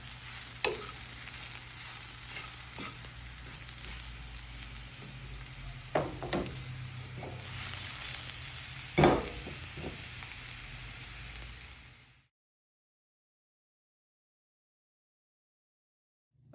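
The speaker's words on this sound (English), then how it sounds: "the next step after we sauteed our mushrooms, they're nice and golden" Golden mushrooms seasoned with garlic salt sizzle steadily in a frying pan during a cooking demonstration, with a few scraping stirs of a utensil, before cutting to silence.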